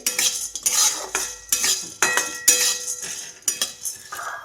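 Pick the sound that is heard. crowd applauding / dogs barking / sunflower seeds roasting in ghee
sunflower seeds roasting in ghee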